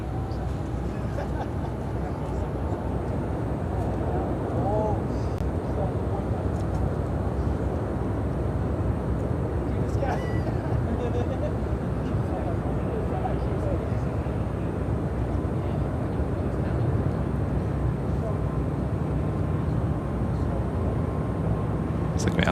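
Airliner jet noise at O'Hare airport, a steady broad roar that fills the whole stretch at a constant level, with a voice talking over it at times.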